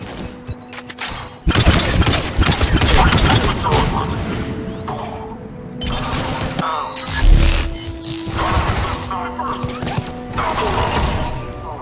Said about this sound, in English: Under heavy attack! Enemy still present! All under fire!